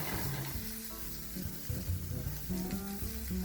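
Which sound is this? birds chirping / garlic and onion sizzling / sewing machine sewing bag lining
garlic and onion sizzling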